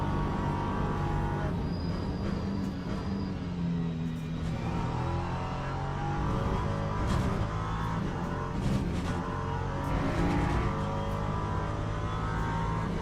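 Race car engines in a racing video game run continuously and loudly, LMP3 prototypes among GT3 cars, their layered tones shifting with gear changes and passes throughout.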